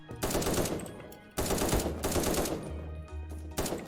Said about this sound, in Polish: z tyłu jeszcze ktoś strzela